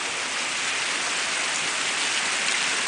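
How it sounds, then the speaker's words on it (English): Steady rain pouring down outdoors near a house with a clogged gutter, a loud, even hiss of drops that runs without pause. "Look at this rain."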